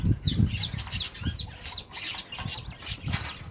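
A pair of Golden Manchurian birds moves about their enclosure, with soft wing flaps and rustling plus a few short chirps and clucks, close by and with no voices.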